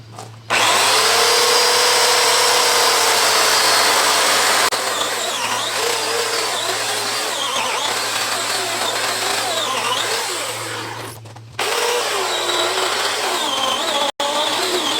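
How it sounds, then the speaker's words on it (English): A power tool cuts an inch off each end of a cedar log, a loud steady whine with gritty wood-cutting texture running for about eleven seconds, a brief pause, then cutting resumes. "I'm going to cut an inch off of each end just to clean it up."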